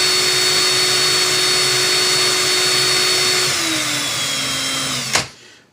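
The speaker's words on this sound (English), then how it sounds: "Hold this wire and hit the drill while it's in reverse." Cordless power drill running in reverse while twisting vape coil wire for a framed staple alien build: a steady close whine that slows slightly near the end, then cuts off with a sharp click.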